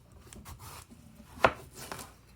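Knife slicing a cantaloupe half into quarters on a cutting board, soft rubbing scrape of the blade through rind followed by one sharper clack as it hits the board, quiet and close.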